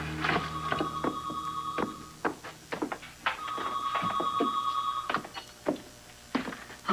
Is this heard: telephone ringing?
yes